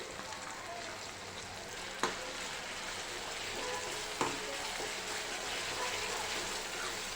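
Tomatoes and chili paste sautéing for pav bhaji, a soft continuous sizzle with the occasional sharp clack of a spoon against the pan, faint and close.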